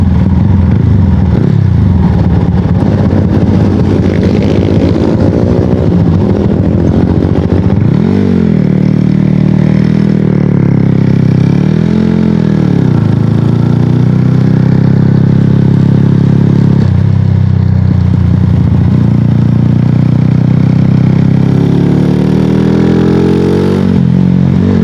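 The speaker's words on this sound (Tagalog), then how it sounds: "Yung tunog nung kanyang pipe talagang humihingi pa siya ng throttle eh." A loud Sniper 150 V1 motorcycle with a 70mm big-bore block and six-speed manual transmission drones steadily through its exhaust pipe while riding. A few rising throttle surges and some wind and road clatter come through.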